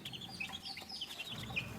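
Young chicks being raised on a poultry farm make soft high chirps and peeps in quick irregular bursts, faint and close, with low background hum and no talking.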